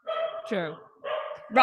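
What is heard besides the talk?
dogs barking in the background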